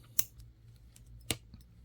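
Scissors trim fingernails with two sharp, close snips about a second apart against a quiet background.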